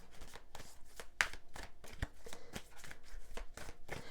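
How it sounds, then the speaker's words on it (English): Tarot cards are shuffled and pulled in quick, close riffles and flicks of paper. The bursts repeat every fraction of a second and sound soft and intimate, with no talking. "Pisces, I will be pulling now more cards for you"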